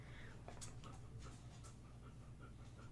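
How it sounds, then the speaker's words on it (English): A puppy pants softly and whimpers in faint, quick breaths indoors, heard quietly under a low hum and light voice. "We have puppy talk going on also."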